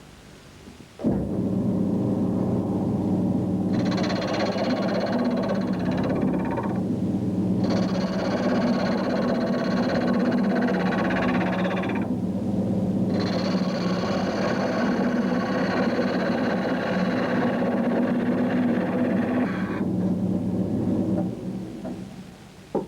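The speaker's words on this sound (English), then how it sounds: "This goes onto the tool rest and we literally just push it into the work." A parting tool scrapes wood on a lathe, making a steady, loud, rough grinding hum that runs for about twenty seconds with two short dips in intensity, no voices.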